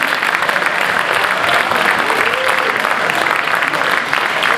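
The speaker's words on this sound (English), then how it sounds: "You can please stand up for a new round of applause." Sustained audience applause at a diploma ceremony, a dense steady roar of many hands clapping at once, loud and even throughout with no pauses.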